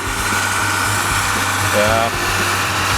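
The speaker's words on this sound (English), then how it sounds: "this hay over here we're raking with the John Deere 7400 and a Gale" A John Deere 7400 tractor pulling a Gale wheel rake while raking hay, its engine a steady, loud, close drone with constant rumble and no pauses.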